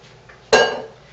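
A single sharp clink and scrape of a utensil against a bowl while the last of the mixture is cleared out, a brief bright metallic rasp that fades within a few tenths of a second against a quiet kitchen.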